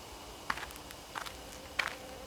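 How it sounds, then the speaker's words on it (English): Footsteps come from the bushes in the horror video game Spirit Hunter: Death Mark, three soft crunching steps spaced apart over quiet ambience. "I hear footsteps again. They seem to be getting closer."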